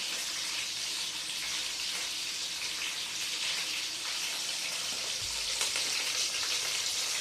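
Curry leaves frying in hot oil alongside onions and chillies, a quiet continuous crackling sizzle with no talk.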